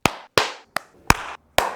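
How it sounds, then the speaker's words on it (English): Five separate bursts of hand clapping at an uneven rhythm, each a short sharp group of claps followed by silence, close and fairly loud. "we'll clap with your hands"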